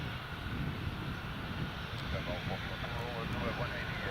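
Aircraft carrying the Dutch King taxiing at Carlisle Airport, a steady engine drone and whine heard from a distance under wind, with people talking over it.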